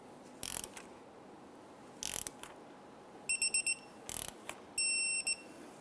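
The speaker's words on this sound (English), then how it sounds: "We want to torque our castle nut here to 35 foot-pounds." Ratchet wrench torquing a castle nut on a 1999-2004 Jeep Grand Cherokee outer tie rod ball joint stud, giving several short, sharp bursts of close metallic clicking with brief pauses between them.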